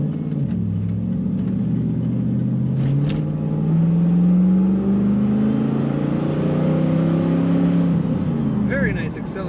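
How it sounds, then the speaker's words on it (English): A 1999 Pontiac Firebird Trans Am convertible accelerates on the road, its exhaust note rising steadily in pitch as the engine pulls hard, loud and close from inside the car. "Very nice acceleration."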